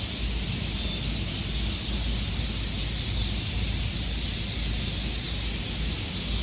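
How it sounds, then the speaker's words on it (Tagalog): Faint bird calls from trees scattered over a steady hiss of outdoor ambience in Miri, Malaysia, with leaves rustling softly in the background. "Yan yung tunog ng mga ibon."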